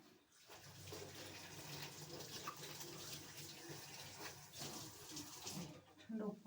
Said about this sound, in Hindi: तो मैं धोऊँ हाथ